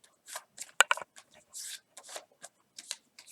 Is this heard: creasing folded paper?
yes